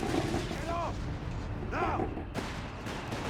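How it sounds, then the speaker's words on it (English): A mortar firing during a Company of Heroes 3 battle, dull booms set within constant battlefield rumble, with a voice talking over it and a brief drop before the noise resumes. "Mortar firing down."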